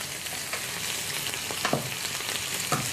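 Food frying in a pan and being stirred, a soft steady sizzle with occasional light scraping strokes, fairly quiet and close with no talking.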